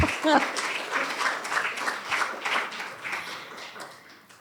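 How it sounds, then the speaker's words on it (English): Audience applause at a memorial celebration, a steady wash of many hands clapping that swells and slowly fades over a few seconds. "You can clap."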